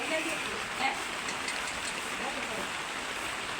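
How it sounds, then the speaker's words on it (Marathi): Heavy rain pouring down in a rural village, a dense, steady hiss of water with a few faint distant sounds scattered within. "पाणी मस्त चालू आहे पाण्याचा जोर जरा जास्तच वाढला"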